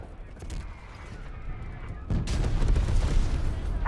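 Gunfire in Call of Duty Cold War, a dense distant rattle of shots that swells into louder, heavier bursts halfway through, with rumbling booms underneath.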